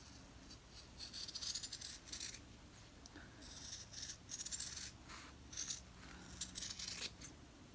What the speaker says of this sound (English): Now I'm going to go ahead and cut around the stitching.